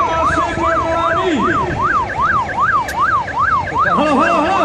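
An ambulance siren wails loud and close at a horse race, its repeating up-and-down sweep cycling steadily throughout, shifting to a faster pattern near the end over faint background commotion.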